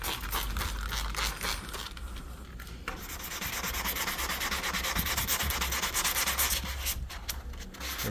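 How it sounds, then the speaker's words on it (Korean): Hand sanding of a car headlight lens with 220 grit sandpaper: steady, continuous abrasive rubbing strokes at close range, loud and without pause throughout. "전체적으로 한 번 더 이제 220방 1차 샌딩을 이제 전체적으로 한 번 더 해주고"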